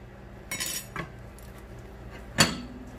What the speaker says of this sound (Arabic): نقلب عليها الصحن.